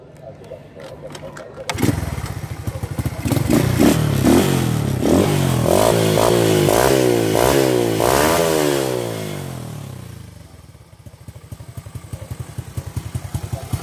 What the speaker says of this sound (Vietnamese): Máy nổ thì thầm nha mọi người.